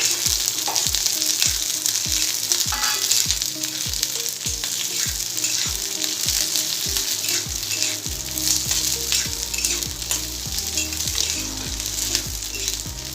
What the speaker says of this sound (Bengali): এবার এতে আমি রসুন কুচি দিলাম, রসুন কুচিটা একটু ভাজা হলে